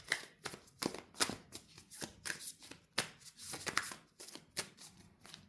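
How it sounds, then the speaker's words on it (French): Tarot cards being shuffled and drawn in quick, papery riffles and snaps, a steady run of close crisp flicks with short pauses between bursts. "il y a 6 autres cartes qui doivent être tirées"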